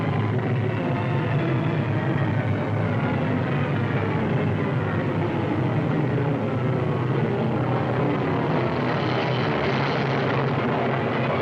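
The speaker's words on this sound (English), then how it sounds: "One B-17 found his target and leveled off." Engines of a B-17 bomber in wartime flight make a loud, steady propeller drone with a deep low rumble and a broad roar. It holds at an even level throughout, with no voices.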